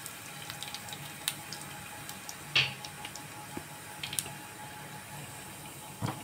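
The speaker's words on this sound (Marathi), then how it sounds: "जिरा चांगला तडकला" Cumin seeds and dried red chili sputtering in hot oil for a tempering, scattered faint pops and sharp crackles over a steady low background hiss, close by and with no talking.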